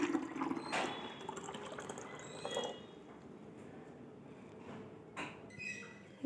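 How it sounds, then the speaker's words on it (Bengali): Hot water poured into a container, a close splashing liquid stream with gurgles and a few clunks, fairly quiet and with no talk. "গরম জল খাবে তো, তাই গরম জল ঢুকাচ্ছে।"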